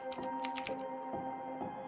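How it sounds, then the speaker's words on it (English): Keys on a computer keyboard are tapped in a short burst of several quick, crisp clicks, then a few sparser keystrokes follow over a steady background hum. "I was just typing."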